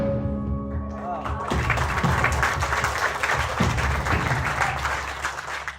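Listeners at a spoken poetry performance on Hindutva politics break into sustained applause, a thick, even patter of clapping that fills the room after an opening moment of quieter sound.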